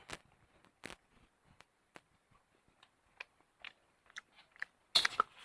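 Someone chews a mouthful of soft, freshly cooked mee sua noodles, with quiet, close, sporadic wet mouth clicks and smacks spaced irregularly and a slightly louder cluster at the end.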